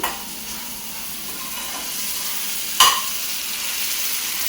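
Tomatoes and coriander sizzle steadily in a hot pan, a soft continuous frying hiss broken by one brief scrape of stirring partway through.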